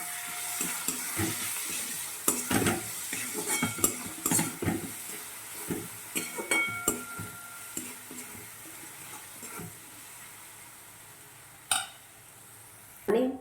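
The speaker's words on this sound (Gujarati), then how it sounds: "એક ચમચી જેટલો ગરમ મસાલો નાખી દઈશું અને હવે બરાબર મિક્સ કરી દઈશું" A spoon stirs garam masala into a potato paratha filling in a pan, giving scattered scrapes and taps against the metal over a soft, continuous sizzle, with a few sharper knocks near the end.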